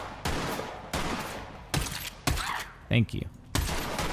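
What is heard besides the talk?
gunfire from enemies in video game Borderlands 3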